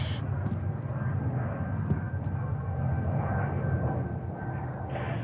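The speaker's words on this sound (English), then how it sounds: "this should be Singapore Airlines, flight 26 coming in, yes, flight 26 coming in from Frankfurt, Germany" Singapore Airlines flight 26 from Frankfurt, a 17-year-old jet delivered in 2008, comes in to land at JFK as a steady, broad engine roar that stays fairly constant throughout.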